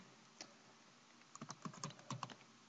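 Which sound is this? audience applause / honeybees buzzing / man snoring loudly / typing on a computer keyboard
typing on a computer keyboard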